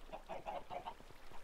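Minecraft chickens cluck in a quick series of soft, rhythmic calls, fairly faint and heard alone without talk.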